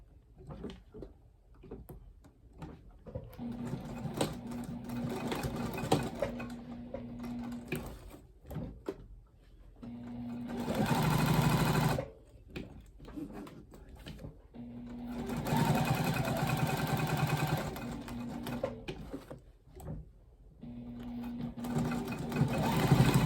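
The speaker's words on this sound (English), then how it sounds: "I'm going to stitch from here up and over and back down" A sewing machine stitching and back-stitching a crossbody bag, loud whirring runs of rapid stitching in several bursts separated by short pauses, close, with no talk.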